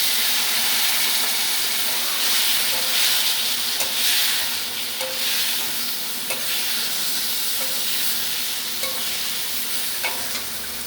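Ground spices sizzle and hiss in a hot pan while being stirred, a steady loud frying noise with occasional soft scrapes and clinks of the spoon, no voices.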